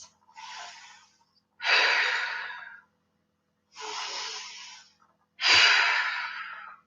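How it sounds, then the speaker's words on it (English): Four deep, slow breaths during a yoga practice, each a long, close airy inhale or exhale with silent pauses between, the second and fourth fuller and louder, with no talking. "2 deep breaths."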